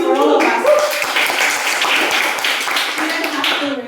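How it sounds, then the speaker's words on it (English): Audience at a Toastmasters club meeting breaking into sustained applause, dense overlapping clapping that stays loud and steady throughout, with a few voices mixed in near the start and end. "Either please give round of applause for all of us."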